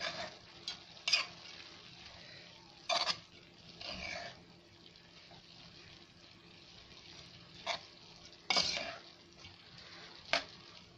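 Ground meat and onions sizzle gently in a pan while a spoon stirs them, with several sharp scraping knocks against the pan at irregular intervals over a low, steady frying hiss.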